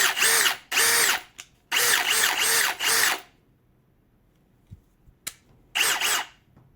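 A Milwaukee FPD3 cordless percussion drill whirs in several short, loud bursts separated by pauses, each burst starting and stopping abruptly as its battery cuts out, with quiet gaps and a faint click between.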